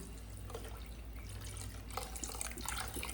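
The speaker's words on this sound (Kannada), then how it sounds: "ಅದಕ್ಕೆ ಡಬ್ಬಲ್ ಆಗಿ ನೀರು ಸುರಿತಾ ಇದ್ದೇನೆ" Water is poured onto half a kilo of rice in a pot for avarekalu pulao, giving a faint, continuous splashing gush that swells slightly toward the end, with no one talking.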